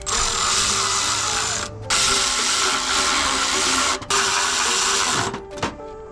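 A 4mm Allen socket on a power driver runs Allen bolts down while installing a cold air intake on a 2009–2018 Ram Hemi: a loud, steady mechanical whir broken by a few short pauses and a final stop, close up, with no talking.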